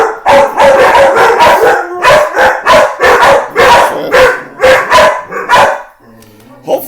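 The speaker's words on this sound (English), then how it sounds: "They decided to bark until she gets here. And they're barking after she leaves." Several dogs bark loudly and repeatedly in overlapping bursts, some barks stretching into howls, before fading to quiet at the end.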